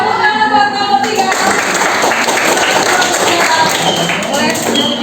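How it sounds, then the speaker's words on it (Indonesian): Students in a university classroom in Jakarta give a group a round of applause, with dense, loud, close clapping that carries on steadily from start to finish. "Tepuk tangan buat kelompok 3"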